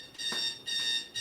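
A kitchen alarm set to signal that a shepherd's pie is done buzzes in three loud, shrill pulses, repeating at a steady rhythm, close by.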